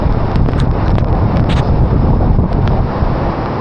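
Strong wind at a waterfall buffets the microphone with a constant loud roar, a rushing water-like wash underneath and a few brief higher thumps.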